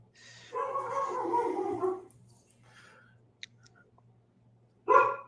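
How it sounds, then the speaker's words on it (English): A dog indoors gives a drawn-out, grumbling bark-like vocalisation, then a stretch of near silence with faint clicks, followed by one more short, sharp bark, fairly close over a steady low hum. "My dog is yelling at me."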